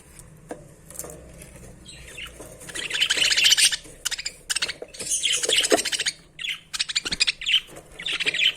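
Budgerigars chirp and twitter in busy bursts close by, with rapid high chatter coming and going and a flutter of wings.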